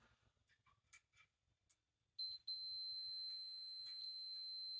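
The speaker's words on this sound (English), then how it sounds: "it's beeping to let us know that there's continuity across the coil" A few soft clicks and taps, then a steady high-pitched multimeter continuity beep, testing a new electric clothes dryer heating coil, that starts abruptly and continues without a break.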